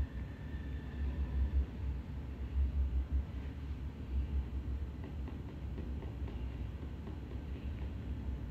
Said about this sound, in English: We always like watching the train.